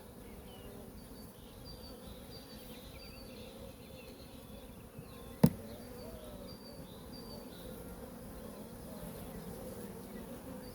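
A steady, dense buzz of honeybees around hive frames during a colony inspection fills the air, humming close by, with a brief sharp click partway through.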